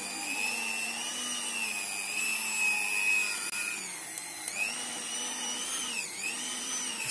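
A handheld electric mixer churns thick homemade cream into butter in a bowl, about four kilograms' worth, giving a loud steady motor whine whose pitch sags and recovers as the load shifts.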